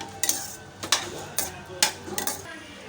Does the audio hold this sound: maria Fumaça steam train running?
no